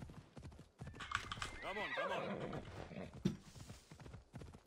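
Horse hooves in Assassin's Creed Odyssey clip-clop in a steady trotting rhythm, joined by a horse's whinny partway through, fairly close and clear.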